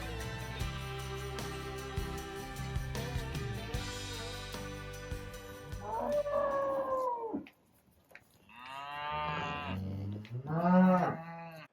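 Cows mooing at a loafing shed on a small homestead farm, several long, drawn-out moos that grow louder toward the end, heard after a stretch of background farm noise.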